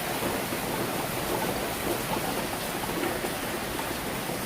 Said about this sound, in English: There's the rain coming down.